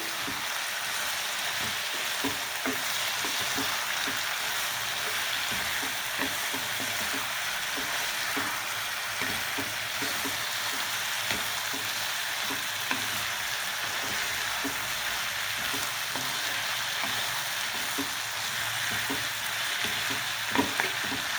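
Turmeric and whole spices frying in hot oil in a pan for an egg masala, a steady close sizzle and crackle running evenly throughout with no voices.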